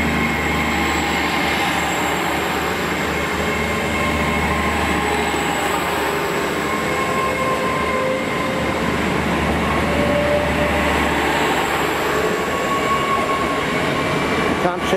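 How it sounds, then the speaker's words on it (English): Steam locomotive 70000 Britannia hauls the poppy train through Bridgend, producing a continuous heavy rolling rumble of carriages with faint wheel squeal, steady and fairly close throughout. "Here we have today what they call the poppy train."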